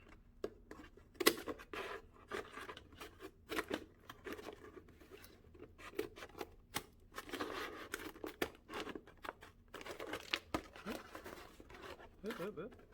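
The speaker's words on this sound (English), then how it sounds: "These scissors are exceedingly hard to use." Scissors snip through a paper mask in irregular short cuts, with rustling and crinkling of the paper between snips, close by and fairly quiet.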